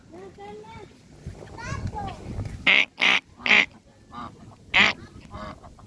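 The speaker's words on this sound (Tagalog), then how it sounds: "Maraming bibe doon." Several loud nasal quacks or honks from ducks ring out in a few separate calls, while people talk nearby.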